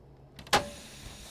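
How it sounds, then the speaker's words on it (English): A truck's parking brake being set in American Truck Simulator, a single sharp hiss of air release that fades quickly, heard close over quiet cab noise. "Parking brake on."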